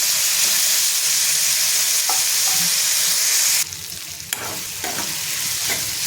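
Onion and tomato with salt sauté in a pan for dry Bombay duck masala, a loud steady sizzle that drops partway through, followed by quieter frying and a few scrapes of stirring.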